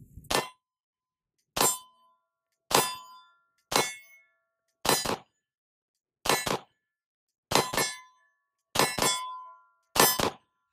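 Bullets striking steel shooting targets ring out as about nine loud metallic clangs, spaced a second or so apart. Each clang rings briefly and decays in near silence, with no talking between hits.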